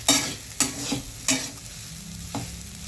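Sabudana khichdi is roasted and stirred in a pan, with a spoon scraping in distinct strokes, four or five close scrapes over a soft background sizzle.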